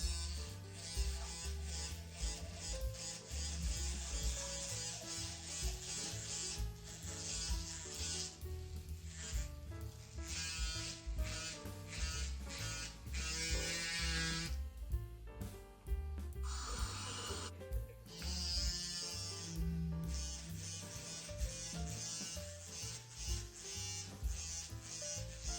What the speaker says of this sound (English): So let's continue with the shave.